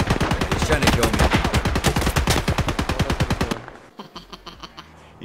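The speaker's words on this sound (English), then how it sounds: "He shot at me like crazy." Rapid automatic gunfire in the Escape From Tarkov video game: a loud, sustained burst of evenly spaced shots lasting about three and a half seconds, then a few fainter, more distant shots.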